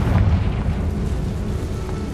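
A Confringo spell blast in the Hogwarts Legacy video game, a dense, rumbling explosion with heavy low-end boom that stays loud and sustained throughout, with no talking.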